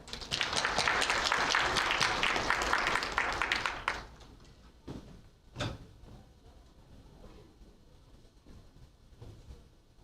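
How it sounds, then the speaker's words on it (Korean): An audience at a university student briefing on an innovation support programme applauds to welcome the director, Lee Byeong-seok. Dense clapping runs for about four seconds, then dies away, leaving a quiet room broken by a single dull thud. "큰 박수로 맞아주시기 바랍니다"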